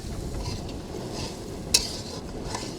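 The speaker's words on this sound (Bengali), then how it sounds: "আলুটা দিয়ে একসাথে কষাবো" Potatoes and spices sautéing together in a pan for a fish dish, a soft continuous sizzle with light stirring and one sharp metallic clink, no voices.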